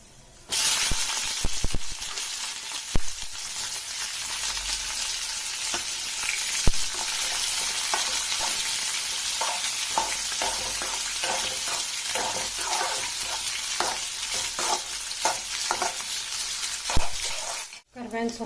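Chopped onion frying in hot oil for vermicelli upma, a steady close sizzle with scattered scraping stirs and clicks of a spoon against the pan that runs nearly unbroken before cutting off at the end.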